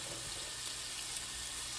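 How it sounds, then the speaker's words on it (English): Sausage and onions fry in a pan with a steady, close sizzle and spatter, a continuous hiss with no talking. "So the sausage is turning brown, and I'm gonna add in all the onions, and then kind of turn it down and cover it and let it cook."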